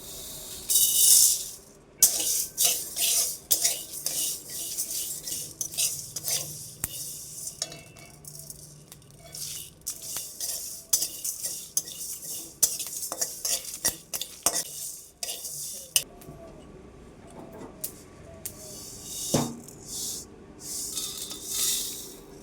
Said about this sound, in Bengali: মেথি, গোলমরিচ আর এমনি শুকনো লঙ্কা। এই কটা আমি এখন কড়াইতে রোস্ট করে নেব।